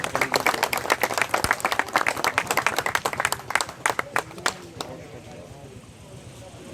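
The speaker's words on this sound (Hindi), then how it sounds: "एक बार जोरदार तालियों से भाई साहब का स्वागत करें।" Crowd claps to welcome a guest at a university student event, brisk distinct handclaps close by that thin out and fade to near quiet in the last couple of seconds.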